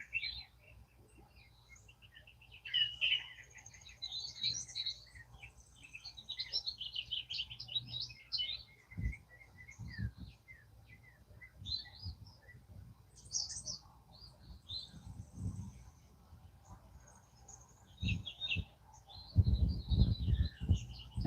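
Wild birds chirp and sing at dawn outdoors, scattered tweets and calls at moderate distance, fairly faint, with occasional low thumps and rumble underneath.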